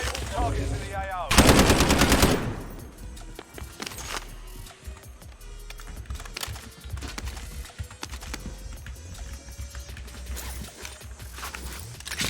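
Bursts of gunfire in a tactical shooter match during a tournament, with a loud dense volley early on, then scattered shots and clatter continuing at lower level throughout.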